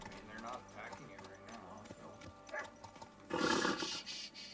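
Horse hooves clip-clop on the ground in Kingdom Come: Deliverance II, a medieval role-playing game, as a steady rhythm under talk, with a louder stretch near the end.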